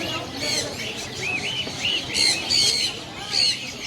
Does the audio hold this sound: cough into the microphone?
no